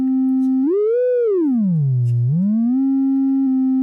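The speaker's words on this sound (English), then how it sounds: "We hear a simple sine wave." A pure sine-wave tone from a VCV Rack software synthesizer oscillator holds steady, glides smoothly up, sweeps down low, then rises back to its starting pitch, loud, continuous and alone.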